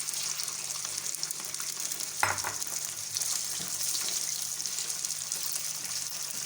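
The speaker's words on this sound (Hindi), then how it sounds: "चिकन को भी हम अच्छी तरह से फ्राई कर लेंगे।" Chicken sizzles loudly and steadily in a hot pan, with one brief clatter of stirring partway through.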